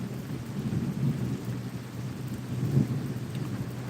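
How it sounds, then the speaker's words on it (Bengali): Low thunder rumbles through a steady wash of rain, swelling in two deeper rolls against the constant hiss. "আপনারা দেখছেন যে বিদ্যুৎ চমকাচ্ছে বিভিন্ন জায়গায়"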